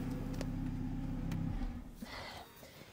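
A BMW B58 engine with a newly installed BM3 flex fuel kit turns over and rumbles with a low, uneven tone for a moment, then drops off into a quieter, rough idle.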